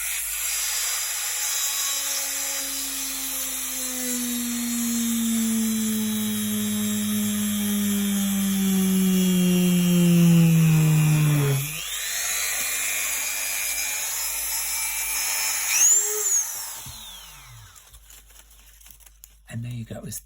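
An electric drill bores a hole in a hand-cut paper kitrigami star. A close, loud motor whine shifts pitch as it runs, then cuts off, followed by a brief higher whir and quiet at the end.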